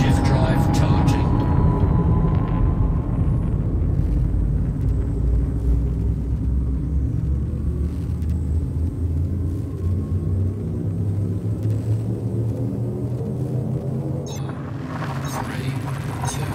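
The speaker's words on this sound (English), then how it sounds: "Frameshift drive charging." A frameshift drive in the game Elite Dangerous charges up as a heavy, continuous low rumble, gradually shifting in pitch before a brighter surge builds near the end.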